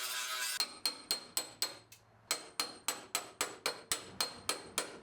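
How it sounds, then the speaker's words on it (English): Metal hammer strikes ring out against a Mustang GT parts car body while knocking loose spot welds, a steady series of about fifteen sharp, loud blows at a regular beat, with one brief pause early on. "We'll just hammer it out of there."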